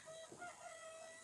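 A hen with a badly plucked head and tail, held by a person indoors among young roosters and other chickens, gives a brief, fairly faint crowing cluck.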